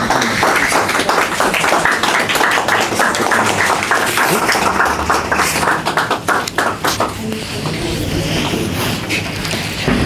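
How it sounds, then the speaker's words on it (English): Audience applause at a storytelling and animation startup event, loud close clapping filling the room, thinning out slightly toward the end. "Can we give a round of applause for 77 Labs"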